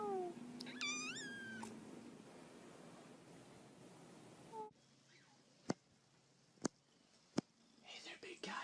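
A wet cat lets out a few drawn-out, rising meows close up at the start, then things go quiet apart from sharp clicks and faint rustling.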